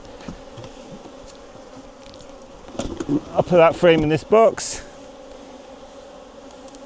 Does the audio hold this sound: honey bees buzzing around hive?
yes